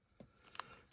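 Scissors cutting tissue paper, a few quick, faint crisp snips and rustles in quiet surroundings, close by.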